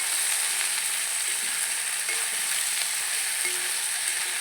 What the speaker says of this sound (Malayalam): എന്നിട്ട് അത് റോസ്റ്റ് ചെയ്ത് എടുത്ത് മാറ്റി വെക്കണം വെളിച്ചെണ്ണയിൽ കിടന്നിട്ട് തന്നെ റോസ്റ്റ് ആക്കണം